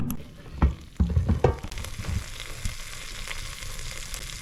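Cheesy French onion soup bubbling and sizzling up close, with soft pops and crackles over a steady hiss, a few louder knocks near the start.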